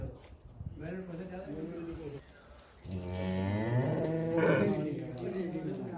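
A Jersey cow on a dairy farm lets out one long, loud, drawn-out moo close by, preceded by a person talking nearby.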